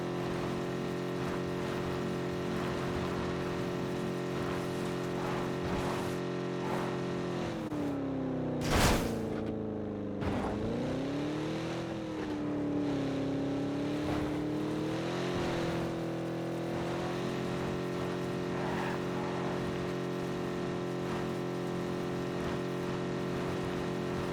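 A car driven in the PUBG video game, its engine holding a steady hum that rises and falls as it shifts and revs, with one sharp bang partway through and no speech.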